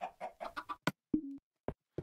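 Minecraft chicken clucking in a video game: a quick run of short, near, bright clucks followed by a few isolated clucks spaced apart, heard alone without talk.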